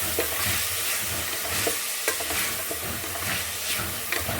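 Two tomatoes frying in a pan after onions, a steady close sizzle broken by repeated scraping and knocking of a spoon stirring through the mix.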